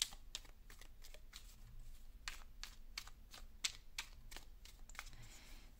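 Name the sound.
drawing guidance cards from a deck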